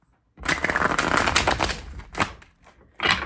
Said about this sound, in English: I'm used to the other cards, which are quite soft and easy to shuffle, but these ones are the newer ones